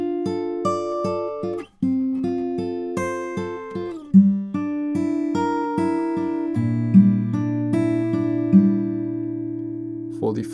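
Fingerpicked acoustic guitar plays the third tab line of a song, steady rolling arpeggios of plucked notes moving through chord changes, close and solo without voices.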